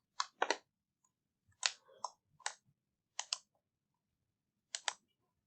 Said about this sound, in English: And clicking extract on that one as well.